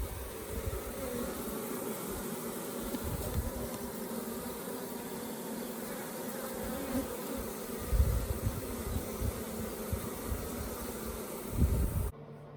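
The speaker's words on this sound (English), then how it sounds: "Look, these bees are so excited to see this queen." A dense, steady drone of many honeybees buzzing close by around a queen, continuous and full with no pauses.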